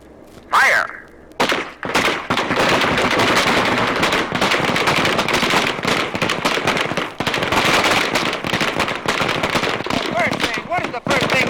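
Rifle gunfire on a military firing range at Air Force basic training in Lackland, Texas: after a brief shout, dense rapid overlapping shots from many shooters crackle loudly and continuously for about ten seconds.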